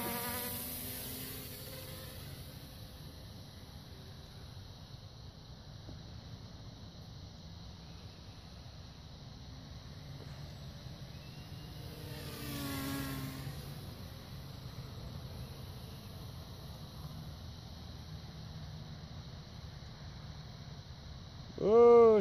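A Hubsan H501SS quadcopter drone flies outdoors in strong wind, its steady high-pitched insect-like whine running throughout against wind rumble, swelling briefly midway, with a short louder burst at the end.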